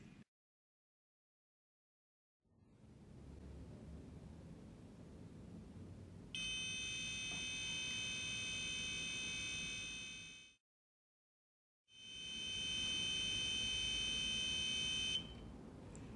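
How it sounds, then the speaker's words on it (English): A smart medicine box sounds its reminder alarm: a steady, piercing electronic beep tone in two long bursts with a short silent gap, loud and close over a low background hum. "If we ignore the reminder, the notification will last for 1 minute."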